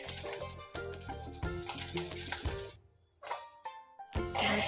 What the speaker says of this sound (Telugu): పచ్చిమిర్చి కూడా మంచిగా ఫ్రై కావాలి